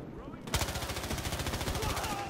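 Automatic gunfire from a favourite weapon in Battlefield Hardline, a rapid, steady burst of closely spaced shots starting abruptly and running continuously, loud and near, with a bit of faint voice in the background.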